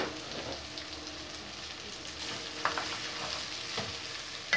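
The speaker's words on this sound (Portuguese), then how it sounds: "Agora vamos acrescentar o milho fresco" Fresh corn sizzles and crackles steadily in a hot pan, with occasional stirring scrapes and clinks close by.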